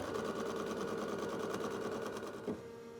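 An in-the-hoop embroidery machine stitches a tack-down sequence on an eyeglass case over foam batting, giving a steady, rapid, even mechanical whir with fine repeating needle pulses. It runs close and continuous, then eases with a small thump near the end.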